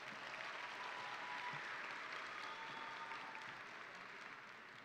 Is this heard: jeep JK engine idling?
no